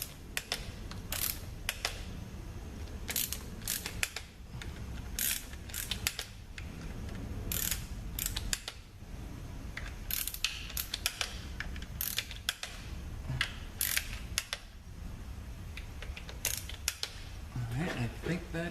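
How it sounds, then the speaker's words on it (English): A torque wrench ratcheting on ZF6HP26 automatic transmission valve body bolts, sharp metallic clicks in repeated bursts with short pauses between, close and crisp, with low handling noise in the background. "I'm going to torque these down about 85 inch-pounds"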